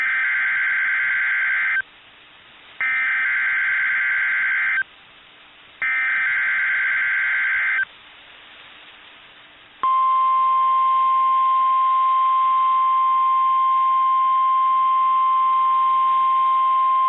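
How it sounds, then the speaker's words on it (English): NOAA Weather Radio All Hazards warning alarm test: a loud, steady electronic tone pulsing in three long bursts separated by short gaps, then giving way to a single continuous pure tone that holds to the end. "Test of the National Weather Service NOAA Weather Radio All Hazards Warning Alarm System"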